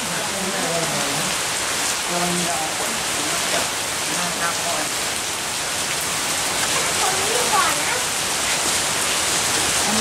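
Heavy rain pours steadily, a dense, loud hiss of drops on surfaces, with a few faint voices talking underneath.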